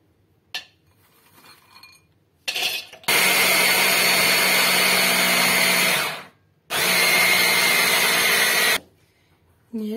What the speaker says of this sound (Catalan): I primer de tot començarem picant les ametlles i les avellanes.